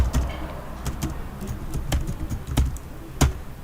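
Typing code on a computer keyboard, irregular clusters of sharp key clicks with a few louder taps, close up and with no one speaking.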